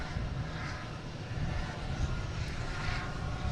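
JetBlue flight 1620 airliner at Boston Logan, bound for London Heathrow, gives a steady broadband engine roar with low rumble, sustained and fairly loud throughout without a clear onset or fade.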